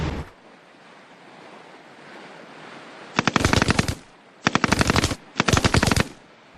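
Machine gun fire from WWII documentary footage comes in three rapid bursts over a windy, surf-like background rush, each burst loud and rattling with sharp repeated reports.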